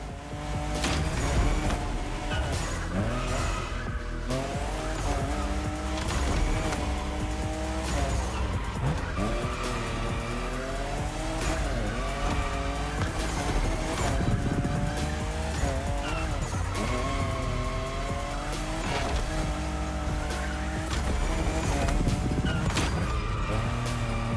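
A Toyota Supra drifting in The Crew Motorfest, with a loud, continuous engine wail and long squealing tire slides that rise and fall in pitch through repeated drift arcs, no speech.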